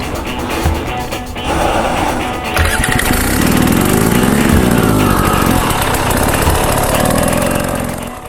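An enduro dirt bike at a training session in Tamahi, British Columbia, is ridden as slowly as possible under throttle and clutch control, its engine a loud, steady near drone that rises gradually in pitch.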